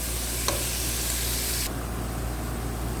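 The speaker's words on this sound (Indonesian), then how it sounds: "ini bawangnya ditumis sudah mulai kekuningan dan baunya udah wangi teman-teman" Onions stir-fried in a pan hiss with a steady close sizzle, a utensil briefly scraping as they are stirred, the frying noise easing slightly partway through.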